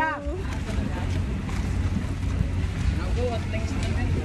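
A low engine rumble of a boat on water with gusty wind noise, and faint voices in the background.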